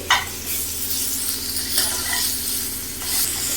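Chopped onions and green chillies frying in oil in an Andhra-style kitchen pan, a steady broadband sizzle with occasional stirring scrapes and a light utensil tap near the start, no voices.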